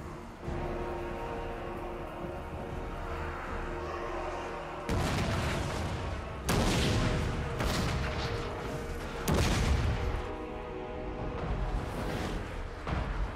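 Artillery guns fire in a Warhammer battle game, several heavy booms spaced a few seconds apart over a dense, rumbling battlefield background, loud and close, with no talk.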